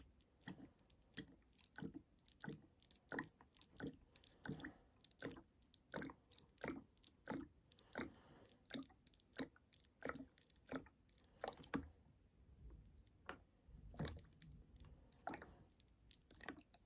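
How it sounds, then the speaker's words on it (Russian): Ink being poured from bottles into the refill tanks of an Epson L1800 printer, making a series of soft, close, irregular gurgling clicks and squishy glugs that repeat steadily throughout. "Вот с такими прикольными звуками заливаем чернила."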